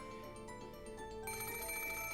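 A telephone rings in the Umineko When They Cry visual novel, a steady electronic trill repeating over quiet game music, moderately loud and alone without talk.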